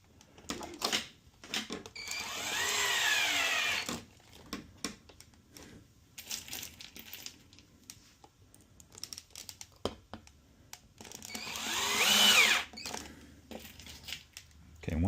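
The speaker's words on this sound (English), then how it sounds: "And then we're just going to screw these in." Power drill driving screws into a pinball kit, two whirring bursts of a few seconds each with light clicks and handling noise between them.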